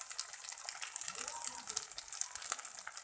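A splash of water poured into a pan of frying spice mix of salt, chilli, turmeric, cumin and coriander powder for a chana dal bora recipe, hissing and sizzling steadily at moderate loudness.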